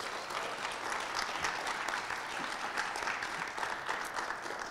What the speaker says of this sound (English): So if we can keep clapping